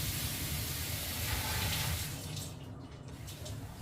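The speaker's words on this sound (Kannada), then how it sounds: "ಅದು ನೀರು ಬಂದ್ ಮಲ್ಪದ" Water runs steadily from a kitchen tap while a traditional Tulunadu pundi rice dumpling dish is prepared, a close, continuous splashing hiss that eases slightly in the second half.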